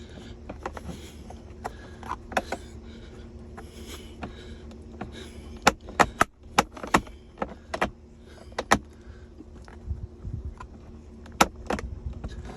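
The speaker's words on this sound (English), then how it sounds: "Gonna have to keep working with it until all the snaps are loose." Repeated sharp plastic clicks and snaps as the center console trim of a 2023 Hyundai Ioniq 5 is pried up, coming in irregular bursts close by over a quiet background.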